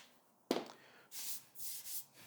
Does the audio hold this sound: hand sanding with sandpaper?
yes